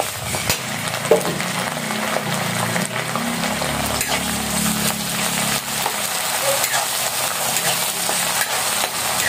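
Snails (suso) being stirred in coconut milk in a pan over heat, a steady scraping stir over continuous sizzling and bubbling, close and moderately loud, with no talking.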